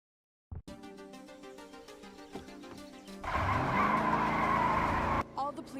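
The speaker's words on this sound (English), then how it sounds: "So now we get back in the car with Serena." A car engine hums steadily in the James Bond game Everything or Nothing, then revs louder as tires squeal in a sustained skid before cutting off, with a steady tonal backing underneath.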